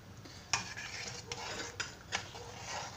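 A spoon clinks and scrapes in a pot while a beet dish is stirred, a few distinct knocks over a faint sizzle, quiet and close with no talking.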